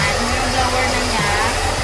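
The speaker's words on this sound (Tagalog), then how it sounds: "Ayan, yung blower na niya." A hair dryer runs steadily while drying hair in a salon, a loud, close, continuous whooshing blow with a faint tonal hum underneath and no pauses.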